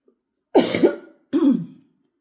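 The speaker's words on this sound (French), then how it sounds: "Excusez-moi, je tousse encore un petit peu." Two harsh coughs close to the microphone, separated by a short pause, with silence before and after.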